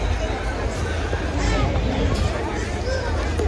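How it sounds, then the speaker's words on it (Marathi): Sunday crowd of visitors at Rani Bagh zoo in Mumbai, a steady wash of overlapping chatter and babble from many people nearby, with someone talking over the hubbub. "संडे असल्यामुळे खूप क्राऊड आहे आणि लाईन पण खूप आहे"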